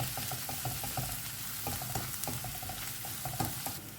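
Onions fry in a pan with ginger garlic paste, stirred with light scraping taps over a soft continuous sizzle, fairly quiet and with no talking.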